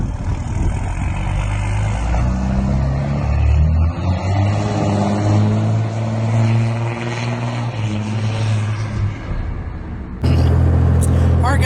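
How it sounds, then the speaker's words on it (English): A Cummins diesel truck with a freshly welded exhaust rumbles and revs, its deep engine drone rising and falling for several seconds before cutting abruptly to a harsher, louder burst near the end, fairly close by. "we got the exhaust put on and welded up. It sounds pretty good."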